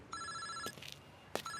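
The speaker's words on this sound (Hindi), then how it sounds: "फोन उठा। अरे दादा हुकुम का फोन है।" A telephone rings in a Bollywood action thriller, two short bursts of a bright electronic ringtone with a brief gap between them, moderately loud against a quiet background.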